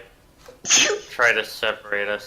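A single sharp human sneeze bursts out mid-conversation in a podcast, loud and close, followed by speech.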